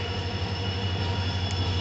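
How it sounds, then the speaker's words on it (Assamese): A train arriving at a railway station in Assam rumbles steadily nearby with a continuous low drone and faint metallic hum, no voices over it. "এইখন ৰেল বহুত ওচৰতে আহি গ'ল"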